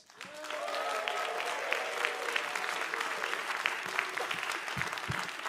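An audience applauds and cheers to welcome the host and compere onto the stage for an evening event, with a steady wash of clapping alongside a few whoops and shouts.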